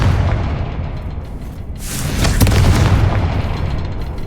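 A Confringo blasting spell erupts in Hogwarts Legacy, a booming explosion that bursts out about halfway through over a background of rumbling game sound, then rolls and fades.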